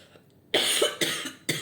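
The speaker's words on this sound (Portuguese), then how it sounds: "Perdão aí pela tosse" A woman coughs several times in quick succession, close and fairly loud, with short gaps between the bursts and no talk over them.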